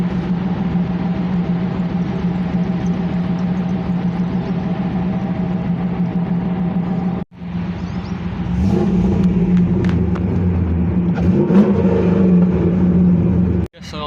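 A Pontiac car engine idles steadily, then revs and pulls away, the loud engine note rising and shifting as the car drives off.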